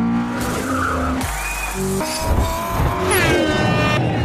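Cars in an illegal street race, loud engines revving and tires squealing in long skidding bursts, close and intense, with no talk.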